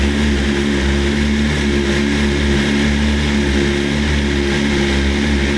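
A BMW S1000RR motorcycle engine running after being started, a loud, steady, close drone with a strong low harmonic hum and no pauses or speech.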